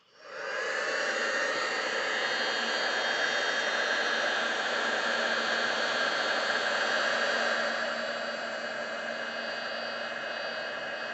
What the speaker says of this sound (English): we want to bring our heat gun over and we want to cook this